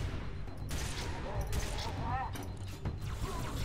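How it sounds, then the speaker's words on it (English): A revolver-style machine gun with a minigun attachment fires in rapid bursts in the Halo 3 video game, loud and continuous, with a voice talking over the gunfire. "it's like a revolver with like a minigun attachment"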